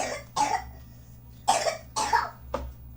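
A young girl coughs at night, four or five separate harsh coughs spaced out over a few seconds, close and fairly loud against a quiet low background hum.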